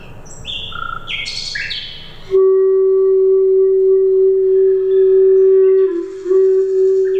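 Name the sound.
nightingales singing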